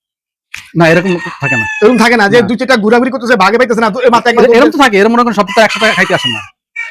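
Chickens and a rooster on a poultry farm crow and cluck, with a crow rising near the start and again toward the end, mixed under continuous nearby talking.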